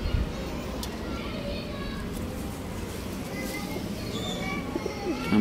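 Pigeons at a breeder's loft coo softly under someone talking close by, with steady room noise and faint chirps throughout.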